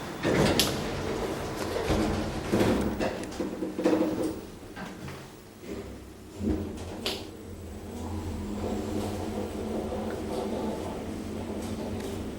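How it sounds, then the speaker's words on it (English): Lift doors in a multi-storey car park slide and thud shut, with clunks and mechanical rattles early on, then a steady low machine hum as the car moves. "Doors closing."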